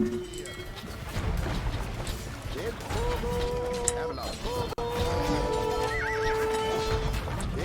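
Horses from Age of Empires II neigh and whinny repeatedly over steady game ambience and hoofbeat clip-clops, with a sharp crash midway.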